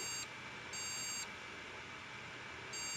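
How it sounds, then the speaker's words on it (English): A desktop PC motherboard emits steady, high-pitched electronic beeps in a regular on-off pattern over constant fan hum, close and fairly quiet with no talking. "As you can see, it's still beeping, so it's good."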